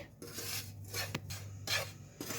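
Semolina and dry fruits are roasted and stirred in a pan, a steady scraping and rasping of a spoon against the pan in repeated strokes with small knocks, close and clear, with no talking.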